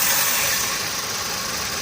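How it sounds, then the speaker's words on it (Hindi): A car engine with a slight misfire idles after starting, a steady close rumble with faint irregular knocks and no voices over it. "अभी एक बार गाड़ी स्टार्ट करके आपको बता देता हूँ।"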